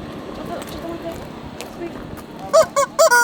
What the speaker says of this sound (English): oh, he's got squeaky chicken